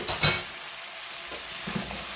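Onions, chilies and spring onion fry in a pan while being stirred, with a sharp scrape at the start, then a soft sizzle and occasional light utensil knocks, close and without voices.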